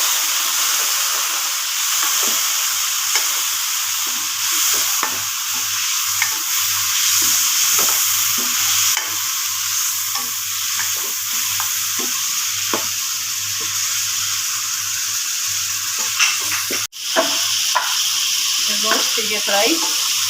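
Chicken meat frying in a pan for a bhindi chicken masala, a continuous loud sizzle and hiss broken by repeated scraping stirs of a utensil, with a sharp clatter near the end.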